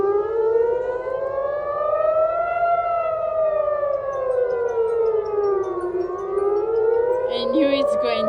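An ATI HPSS32 air raid civil defense siren blares loud and close, its wailing tone rising and falling in slow sweeps, with a brief sharp noise near the end.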